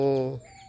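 A young rooster, one of five, gives a single short harmonic call that quickly fades, near and fairly clear.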